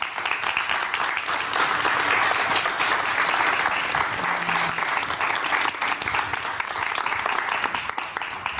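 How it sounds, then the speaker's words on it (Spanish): Studio audience on a Spanish TV show breaks into long, full applause, with steady dense clapping throughout and a brief voice partway through. "Un aplauso muy grande para Sergio Ibáñez y Javier Rivero."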